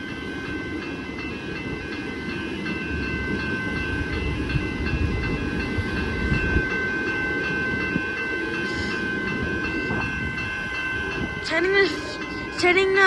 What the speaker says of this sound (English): Siemens Nexus train.